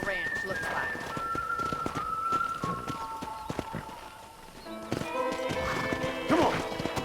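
A horse galloping in the video game Red Dead Redemption: steady rhythmic hoofbeats with a whinny, heard under in-game music and a speaking voice.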